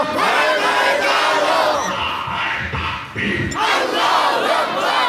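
A large crowd at an Islamic sermon gathering roars a unison chant in answer to a takbir call, loud and sustained with a brief dip midway before swelling again.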